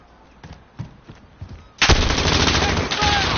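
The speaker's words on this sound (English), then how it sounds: "Friendly sentry gun online." A sentry gun in a video game opens up in a sustained, loud, rapid burst of automatic fire after a few scattered softer shots.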